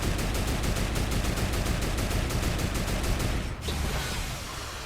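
Rapid, sustained automatic fire from turrets in the video game Fortnite, loud and close, a steady stuttering burst that breaks off near the end into a duller rumbling crash.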